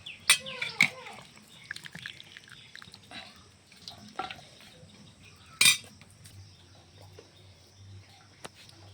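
Metal utensils clink and scrape against a plate as freshly cooked vegetable curry is served, in scattered, faint, close taps with quiet gaps and a bird chirping now and then in the background.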